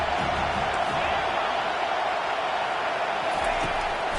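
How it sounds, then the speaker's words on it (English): Stadium crowd noise in the College Football 25 video game swells into a dense, loud, continuous roar on a third-down defensive stand, with a broadcast commentator talking over it. "Decibels rising as the crowd gets behind this defense on 3rd down."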